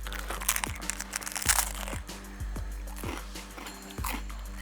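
Crisp crackling crunches of baguette crust breaking, several sharp bursts close to the ear, with a low hum underneath.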